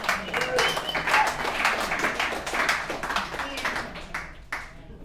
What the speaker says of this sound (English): Let's give Randy a round of applause